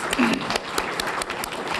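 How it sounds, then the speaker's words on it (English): Applause from a conference session audience, a dense patter of many hands clapping steadily for under two seconds, moderately distant. "another round of applause"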